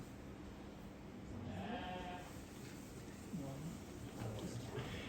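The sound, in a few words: sheep bleating at sheepdog demonstration in Ireland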